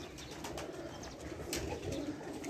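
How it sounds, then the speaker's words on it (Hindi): Flying pigeons on a rooftop in Jhelum city coo softly while faint wing flutters break in, a quiet, close, continuous rooftop scene with no talk. "पट्ठियां पट्ठे ये बाहर निकले ने, कुछ उत्ते उड़ते ने, कोई 30 कबूतर"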